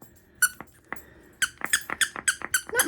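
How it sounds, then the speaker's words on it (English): A squeaky dog toy squeaks in short sharp bursts, a few isolated squeezes and then a quick rhythmic run of about eight squeaks, close and clear with no talking. "Not much of a squeak, but Tina loves her."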